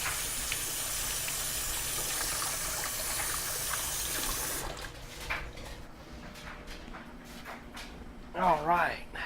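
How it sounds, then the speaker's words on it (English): Running tap water pours loudly in a home kitchen as hands are rinsed, a dense rushing stream for several seconds that cuts off abruptly, followed by quieter handling sounds and a brief voice. "I'm going to rinse my hands off one more time real quick."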